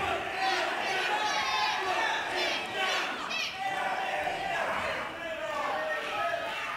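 A live wrestling crowd at a WrestleForce show in Harlow roars and shouts throughout, a busy wash of cheering voices with a few louder yells rising above it.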